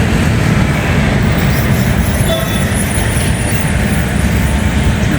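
An LRT light rail train rumbles past near Luneta Park in Manila, a steady close roar of wheels and motor with faint high squeals, continuous for several seconds without talk.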